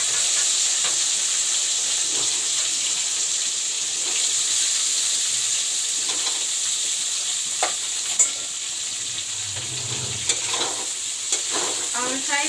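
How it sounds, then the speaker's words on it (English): Cauliflower and potato fry together in hot oil, a continuous bright sizzling hiss with occasional stirring scrapes and clinks of a utensil, plus a brief low murmur partway through. "Now I'll fry the cauliflower and the potato."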